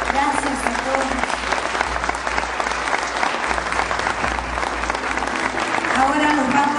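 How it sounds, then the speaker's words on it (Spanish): Audience applause after a student school play about Santa Rosa de Lima, dense steady clapping from a full room throughout, with voices mixed underneath. "Por eso el pueblo de Anguinán los aplaude."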